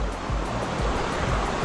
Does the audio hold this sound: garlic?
no